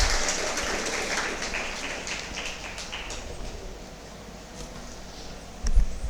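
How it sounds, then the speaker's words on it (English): An audience at a college event applauds after a talk on Sanskrit literature, a dense wash of clapping that stays steady for several seconds, then thins and fades toward the end. "give a big round of applause"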